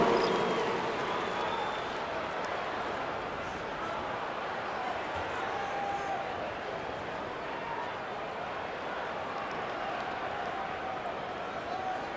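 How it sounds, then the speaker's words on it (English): Crowd cheering and applause fill an arena in the basketball video game NBA 2K25, a dense, steady wash that starts loud and settles slightly, with no clear speech. "Let's give another round of applause for your hoop crew."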